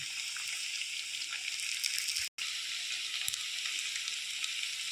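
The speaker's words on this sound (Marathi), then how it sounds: "जवळपास आपल्याला 2 ते 3 मिनिटं तळून घ्यायचं आहे" Sabudana vada patties deep frying in hot oil: a steady, close bubbling sizzle that continues for several seconds, broken only by one very brief gap.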